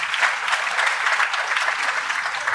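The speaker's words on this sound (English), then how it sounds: "I give you a round of applause." An audience at a Lagos State pension commission event claps in a brisk, steady round of applause, dense and fairly close, filling the moment without any talk.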